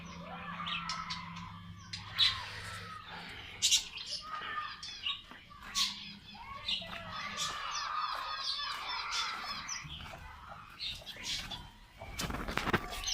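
Hens clucking and squawking in a busy yard, with short bursts of calls and chirps overlapping steadily throughout, fairly close.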